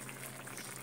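A pot of fish curry bubbles at a steady boil, a continuous dense burble of popping liquid, faint and close, with no voices.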